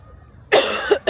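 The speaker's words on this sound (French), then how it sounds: "Comme vous pouvez l'entendre, je tousse." A person with a cold coughs several times up close in New York, a harsh burst followed by two shorter coughs, with no talking.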